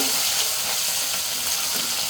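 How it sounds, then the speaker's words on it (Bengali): Dried shutki fish fries in oil in a kadai wok, a steady, dense close sizzle with a crackling hiss that holds evenly for the whole stretch, with no voices. "কড়াইতে এখন আমি পরিমাণ মতো তেল দিয়ে দিব প্রথমে শুটকিটা বেজে নিব"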